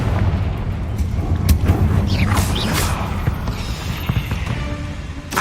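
A Confringo fire spell explosion in the Hogwarts Legacy video game, a heavy boom amid rumbling combat effects and whooshes, loud and close, with more impacts following in a dense game soundscape.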